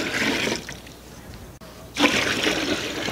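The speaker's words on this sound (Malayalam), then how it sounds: "വെള്ളം നമുക്ക് ഒഴിച്ചു കൊടുക്കാം" Water is poured into a pot of rice for Thalassery chicken dum biryani, with a splashing burst at the start, a short quiet pause, then a louder pour.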